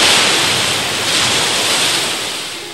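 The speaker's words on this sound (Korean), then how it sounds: "파도 소리, 끝없이 밀려오는 그 파도의 물결" Ocean waves rush and wash continuously in a loud, dense roar of surf that swells and slowly fades, with no voices.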